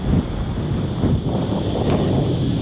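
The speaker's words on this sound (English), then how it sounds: "the wind's picked up heaps" Strong wind buffets a microphone out on the water while fishing from a boat, a loud continuous rumbling roar with gusty swells and no talking.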